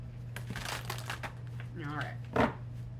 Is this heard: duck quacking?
no